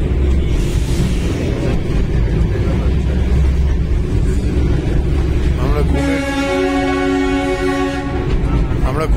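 The Darjeeling toy train rumbles steadily on its way toward Ghum station, then a loud sustained horn blast sounds for about two seconds near the end.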